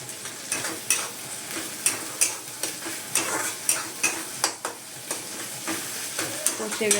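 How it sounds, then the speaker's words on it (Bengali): Tomatoes, ginger and garlic sauté in a pan, stirred with regular scraping strokes about twice a second over a constant soft sizzle and hiss. "আর টমেটো ভালো করে কষানো হচ্ছে।"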